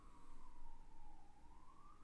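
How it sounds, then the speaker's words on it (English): An ambulance siren wails steadily as it passes, its rising and falling tone distant and faint against a constant background hum, with no talking. "there's an ambulance going by"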